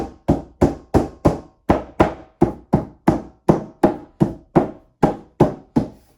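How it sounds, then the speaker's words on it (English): A cube organizer panel from an 8-cube Brightroom unit is pressed onto its wooden dowel rods, giving about sixteen sharp, evenly spaced knocks at a steady rhythm, close and clear with no voices. "you line it up with all the dowel rods, and it's kind of like just kind of push it in"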